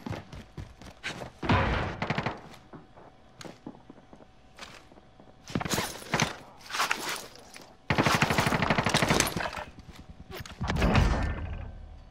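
Sustained bursts of automatic gunfire in Call of Duty: Modern Warfare, several loud volleys separated by brief pauses, with footsteps and faint voices mixed in.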